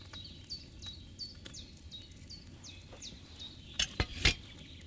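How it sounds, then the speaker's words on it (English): A wine cauldron boils with a steady run of small popping blips, close by, then a few sharp clunks near the end, in the video game Kingdom Come: Deliverance 2. "that bubbling? It's boiling."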